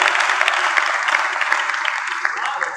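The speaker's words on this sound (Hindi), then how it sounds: "एक बार जोरदार ताली हमारे एसपी साहब के लिए।" An audience at a comedy show claps loudly, a dense burst of hand clapping that carries on steadily and fades slightly toward the end.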